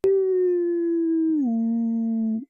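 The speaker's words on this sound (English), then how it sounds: "Listen, a wolf howl." A single long wolf howl, loud and close, holding a steady pitch before sliding lower and ending abruptly after about two and a half seconds, with no other sound around it.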